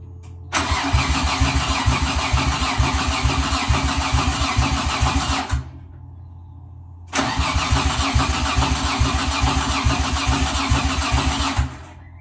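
Nissan RB25 engine in an S13 180SX cranks without firing through two long, loud bursts of rapid rhythmic starter churning separated by a short gap, heard up close with no talk.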